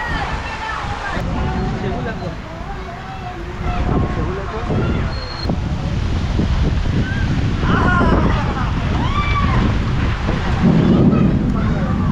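Steady rain from the season's first monsoon downpour in Konkan pours down while deep thunder rumbles, and several excited voices shout and talk over the storm.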